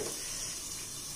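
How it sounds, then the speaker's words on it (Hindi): Water, about two spoonfuls, poured into an onion and tomato masala cooking in a pan, giving a steady hiss and light sizzle that holds evenly throughout, with no talking. "2 चम्मच पानी देकर के इसको चला देंगे और ढक देंगे।"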